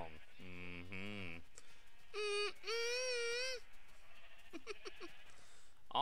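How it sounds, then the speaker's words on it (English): Sheep in a video game bleat several times, drawn-out wavering calls heard clearly and close, with softer sounds between them. "Looks like some sheep have been sneaking around."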